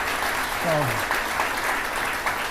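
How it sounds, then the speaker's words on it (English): Applause rises from the crowd at a live event where the Texas governor speaks on the economy, a steady clatter of clapping with a voice briefly cutting in partway. "Let's have a round of applause."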